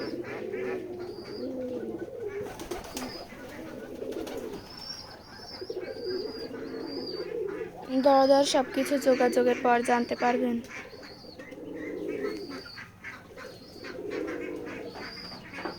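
Domestic and foreign pigeons on a pigeon farm in Keshabpur, Jessore, keep up a soft, continuous cooing with scattered higher calls, while someone talks over them nearby.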